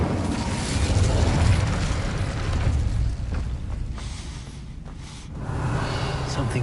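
Incendio fire spell blast in the Hogwarts Legacy video game, a loud roaring burst of flame that rumbles on dense and sustained, dips briefly, then swells again.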